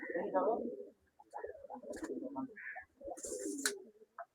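Pigeons kept in a loft coo softly in low, throaty rolling phrases, several overlapping calls close by with brief pauses between them.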